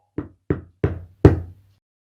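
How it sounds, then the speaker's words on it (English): Four close, sharp knocks land on a back door at a slightly slowing pace, with the last blow the heaviest. Each has a short woody thud. "He knocked at the door."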